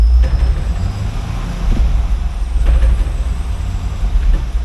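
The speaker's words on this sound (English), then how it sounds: "let's go ahead and test out the 6-speed manual transmission. There we got first gear." A 2013 Camaro SS with a 6-speed manual transmission drives off, its engine producing a loud, steady low rumble with slight rises in pitch as it moves through gears, heard from inside the car.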